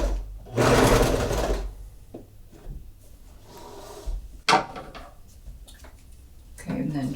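A sewing machine stitches a seam on a fleece hat in short loud bursts, the first the longest, with rustling fabric and handling noises between runs, and a voice speaks near the end.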